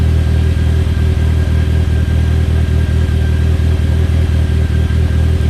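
Turbocharged Talon car engine running on E85 fuel idles after a cold start following two months of sitting. A loud, steady low rumble with a slightly uneven pulsing beat is heard up close, with no voices.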